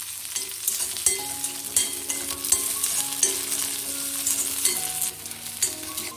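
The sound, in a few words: shallots, garlic and ginger frying in a pan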